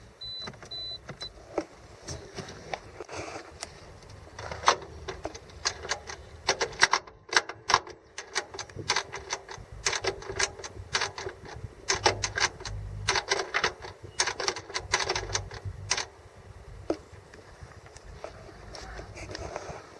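On a Toyota MMT semi-automatic gearbox, a newly fitted clutch actuator runs its learning procedure after the ignition is switched on. It gives rapid bursts of mechanical clicking and whirring motor noise in an irregular rhythm, heard close and without talking.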